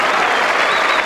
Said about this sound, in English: And some applause for that player